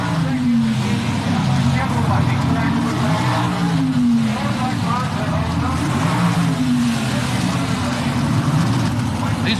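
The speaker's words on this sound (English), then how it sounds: "These are two gas coupe sedan cars." Two Chevrolet Monza gas coupe drag race cars rumble at the starting line of a 1977 NHRA Spring Nationals event, a steady loud engine drone under a commentator's continuous talk.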